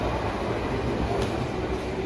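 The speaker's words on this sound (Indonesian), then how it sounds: "Nah, sudah datang KRL-nya." A commuter electric train (KRL) rumbles into Manggarai station in Jakarta, a steady low roar of wheels and rails with a faint squeal overhead.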